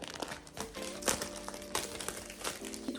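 Packaging for a DJI Osmo Pocket camera crinkles and rustles during an unboxing, with bursts of crackly plastic and cardboard handling close by, alone without speech.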